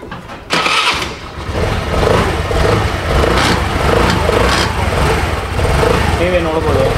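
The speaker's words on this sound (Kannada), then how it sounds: "ಈ ಗಾಡಿ ಪೂರ್ತಿ ಇಂಜಿನ್ ರೆಡಿ ಇದೆ." A Honda Dio scooter engine kicks into life after a brief quiet moment and settles into a steady, buzzing idle, loud and close, running alone without talk.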